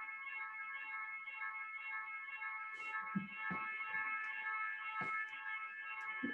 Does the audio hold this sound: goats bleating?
no